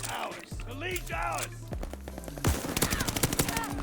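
Cooper Carbine assault rifle fire in Call of Duty Vanguard, with a fast rhythmic automatic burst in the second half, preceded by game sounds and music-like tones.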